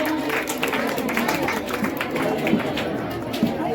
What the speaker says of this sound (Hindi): इसके लिए जोरदार ताली करिए।